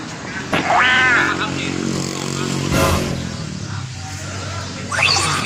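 A small engine fitted to a motorized bicycle runs with a steady, buzzing drone that stays loud and close throughout, with a brief surge partway through and no clear speech.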